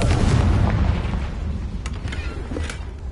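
A Confringo explosive spell from the Hogwarts Legacy video game goes off as one heavy, rumbling blast at the start, then fades into a long low tail with a few faint crackles.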